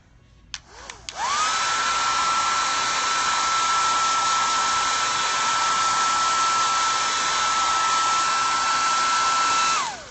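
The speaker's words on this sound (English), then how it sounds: "Okay, I'm going to use my dryer again." A handheld dryer blows steadily, drying acrylic paint on a Bible journaling page; the whine starts abruptly after a brief click and holds a constant high pitch for about nine seconds, close and loud, with no talk.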